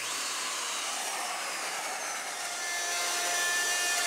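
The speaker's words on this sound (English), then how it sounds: "all the sanding and everything is done by hand" A continuous hissing rasp of sandpaper rubbing wood, steady and fairly quiet, with no voices.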